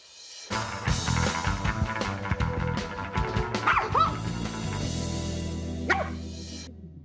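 A dog barks, yips and whimpers in a quick, agitated series of close, loud vocalizations, some rising into high whines, with no talk over them.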